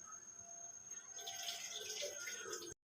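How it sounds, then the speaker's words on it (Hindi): Rose-shaped rolled aloo samosas sliding into hot frying oil, a soft steady sizzle that swells after about a second and stays even, close and fairly quiet, then cuts off abruptly. "ऑयल जो है गर्म हो चुका है। इसमें हम समोसे डालना शुरू करते हैं।"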